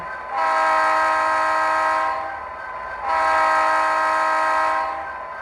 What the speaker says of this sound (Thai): ฟังก์ชันที่ 2 ก็จะเป็น แตร ครับ แตร ยาว